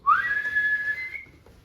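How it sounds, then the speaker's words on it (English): One clear whistle blast to start a game, rising sharply and then holding a steady, loud tone for about a second before it fades. "With a blow of the whistle"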